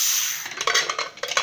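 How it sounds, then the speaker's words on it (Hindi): A pressure cooker being opened after cooking dal on a gas stove, with a run of sharp metallic clinks and clatters of the lid and pot, close and fairly loud, irregular over about a second. "अब हम अपना कुकर खोलेंगे,"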